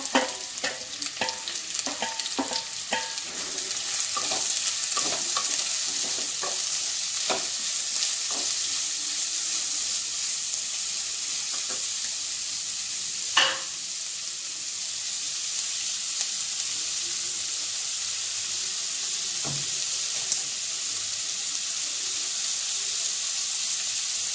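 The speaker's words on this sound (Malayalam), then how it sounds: "എണ്ണ നന്നായി ചൂടായതിന് ശേഷം സവാളയും ഉള്ളിയും പച്ചമുളകും കൂടി ഇട്ട് കൊടുക്കുക." Onions, shallots and green chillies fry in hot oil with a steady, close sizzle, broken by scattered clicks and scrapes of a spoon stirring the pan.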